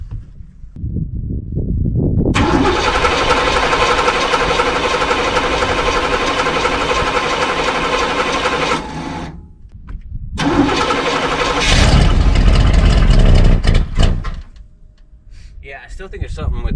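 A cold start of an old truck engine, a '73 GMC or '93 Chevy. The starter cranks, the engine catches and runs loudly close by, then cuts out and restarts with a roaring rev, and a voice speaks partway through.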